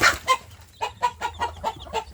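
Repeated soft clucking and cheeping from village chickens and newly hatched chicks, a rhythmic series of short calls close by, with no talking.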